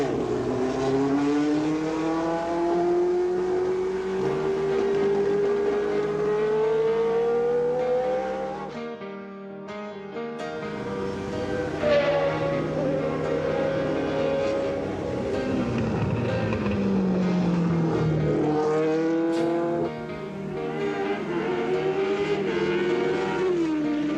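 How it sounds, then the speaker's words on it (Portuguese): A Formula 1 car driven by Ayrton Senna pulls slowly out of the pit box, its engine note rising and falling in loud sustained harmonic sweeps with a brief drop midway, close and continuous with no talk. "O carro sai do box,"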